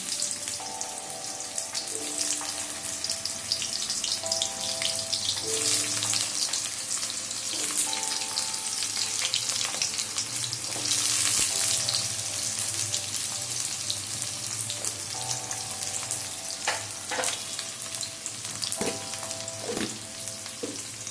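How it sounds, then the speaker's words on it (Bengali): Papaya pieces sizzling steadily in hot oil with cumin, a dense continuous frying hiss with occasional clinks and stirring scrapes, close and fairly loud throughout. "এরপর আমি প্রথমে পেঁপেগুলো তেলের মধ্যে ছাড়লাম"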